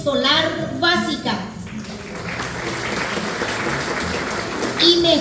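Crowd applause bursts out at a graduation ceremony at Colegio Nacional Santa Teresita in Arroyos y Esteros, a broad, steady clapping that swells after an announcer's voice and fades as he speaks again.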